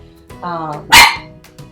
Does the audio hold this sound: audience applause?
no